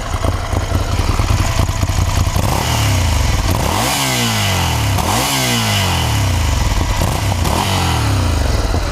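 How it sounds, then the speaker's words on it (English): A 2015 Ducati Scrambler motorcycle engine running nearby, loud throbbing idle rising into several sharp revs that climb and fall back, with mechanical clatter underneath and no talking. "Sounds like a Ducati, honestly."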